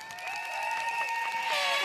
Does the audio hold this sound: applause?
yes